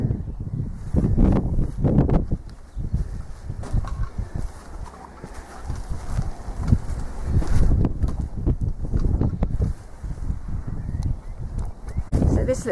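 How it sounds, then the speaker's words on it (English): Wind buffets the microphone on the hilltop at the Dryslwyn Castle ruins, coming in loud, uneven gusts with low rumbling throughout. "A little bit windy up the top here."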